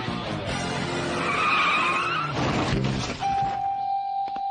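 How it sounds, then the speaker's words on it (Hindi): A cartoon car brakes to a sudden stop with a loud, drawn-out tire screech and skid, then a thunk and a sustained tonal ring as it halts, all close and prominent. "कार रुक गई है।"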